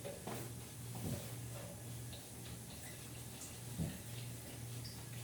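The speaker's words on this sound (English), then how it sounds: "Pour 1 cup in here, and then you can pour the balance." Liquid is poured into a cup while baking a cake, a faint watery pour over a steady background hum, with a couple of small clinks and no talking.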